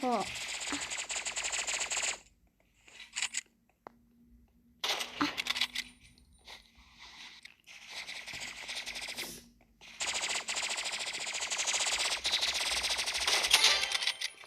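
A toy gun fires in loud, rapid rattling bursts that stop and start several times, with short gaps and voices talking at points.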